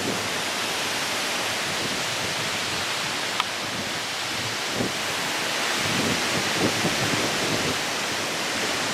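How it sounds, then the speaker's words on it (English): A strong wind storm blows outdoors beside a patio, a steady broadband roar that holds loud and even throughout, with a few faint gusty swells and no talk. "It's extremely windy."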